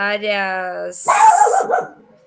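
A dog barking and yelping indoors, a drawn-out high whining yelp followed by a sharper bark-like burst, close and loud with no speech.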